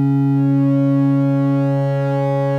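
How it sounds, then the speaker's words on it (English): Two steady sine waves from an Oberheim TEO-5 synthesizer held together, smooth and pure with no wavering, sustained and loud without pause. "But here is just two sine waves."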